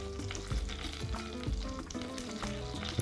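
Filled pastries fry in a pan of hot oil, giving a busy, continuous sizzle with crackling pops and occasional stirring clatter, close and alone without talk.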